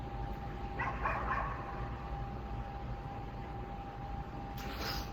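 Dogs yap from below at a distance, a short cluster of faint barks near the start and another brief burst at the end over a steady low hum.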